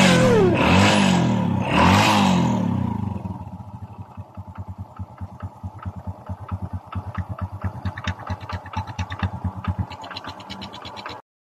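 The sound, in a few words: Honda XRM 125 motorcycle engine running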